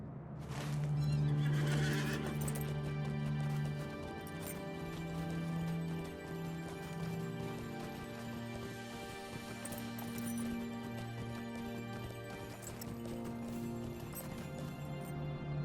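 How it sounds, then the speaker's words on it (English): A horse in the Lord of the Rings Online video game gives a loud, drawn-out neigh near the start, followed by steady clip-clopping hooves and further whinnies throughout. "So let me get on my horse again."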